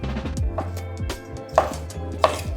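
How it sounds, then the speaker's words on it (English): A very sharp Global chef's knife dices chicken breast into big pieces on a board in a restaurant kitchen, with distinct knife strikes on the board amid a low hum of kitchen background noise and music. "going to prep the chicken breast now we're just going to make dices for this one now"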